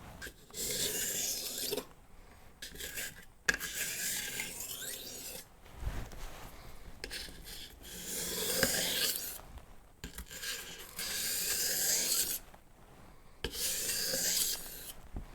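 A kitchen knife is drawn across the 6000 grit side of a whetstone in rhythmic gritty scraping strokes, several rasping passes separated by brief pauses, close and fairly quiet with no talking.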